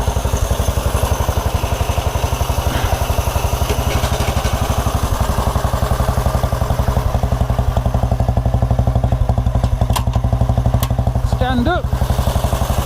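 A 1929 Ariel motorcycle engine fires up and settles into a loud, fast, even thumping idle close by, running steadily throughout with a brief whine near the end.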